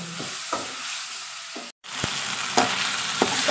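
Spicy fried rice being stir-fried in a pan with tomato sauce, giving a steady close sizzle broken by scraping spatula strokes and a brief silent gap midway.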